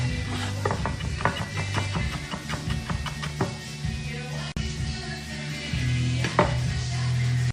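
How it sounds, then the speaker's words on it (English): Chilies being finely chopped with a knife make rapid, irregular taps on a cutting board, close and steady, with a low hum underneath. "really finely chop up those chilies"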